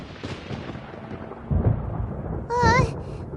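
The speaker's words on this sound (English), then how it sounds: "Paimon hears thunder!" Thunder rumbles in the video game Genshin Impact, with a low, heavy roll building midway and a second swell near the end alongside a high, wavering voice-like tone.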